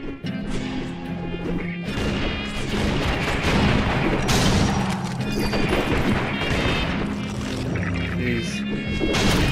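Rapid gunshots and crashing impacts from the Secret Ponchos video game, in the Phantom Poncho character's gameplay, stack densely over a continuous tonal game soundtrack, loud and sustained throughout.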